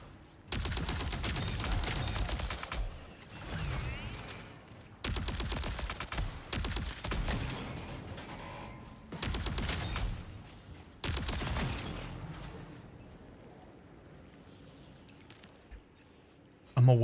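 Suppressed gunfire from a silenced weapon in a video game, fired at bots, comes in four loud, dense bursts of rapid shots separated by short pauses, then fades to quieter game ambience.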